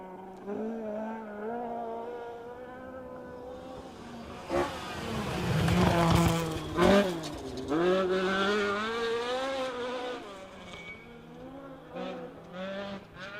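A historic Mark II Skoda rally car with a BD engine and ZF gearbox revs hard at a stage rally, rising and falling engine notes building to a loud close peak, then settling back to a rough idle.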